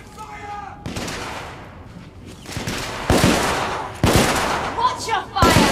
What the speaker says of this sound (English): Intruders! Open fire!